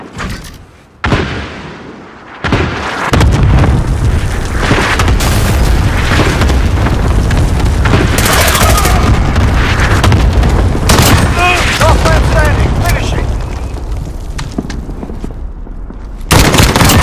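Cluster strike explosions in Call of Duty: Modern Warfare roll out as a sustained, loud barrage of booms and blasts after a couple of sharp opening hits, with voices audible in the mix.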